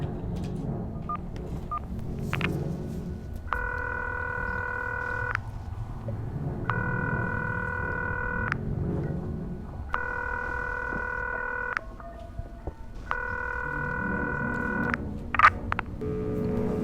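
Four identical multi-tone telephone beep sequences, each lasting over a second, sound at even intervals in the video game Concluse, over a low droning ambience with a few faint clicks and no speech.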